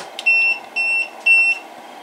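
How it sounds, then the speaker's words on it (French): Three short, clear electronic beeps from a WhatCID Open Box Classique electrical box, evenly spaced and alone against a quiet background. "il vient de faire 3 petits bips pour dire,"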